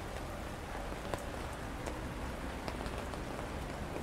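Steady rain patters down softly, a continuous even hiss with occasional louder drops, fairly quiet and with no voices.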